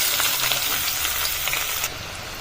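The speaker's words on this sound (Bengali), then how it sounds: "ওই কোপ্তা ভাজা তেলটার মধ্যেই আমি দিয়ে দিলাম কালো জিরে এবার এর মধ্যে দিয়ে দিচ্ছি পেঁয়াজ" Chopped onions sizzle and crackle in oil left from frying fish roe koftas, seasoned with black cumin, giving a steady frying hiss that drops abruptly near the end.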